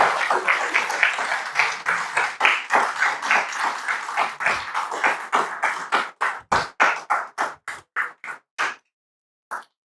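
A church congregation claps in praise of the Lord, a dense round of applause that thins into fewer, separate claps and stops near the end.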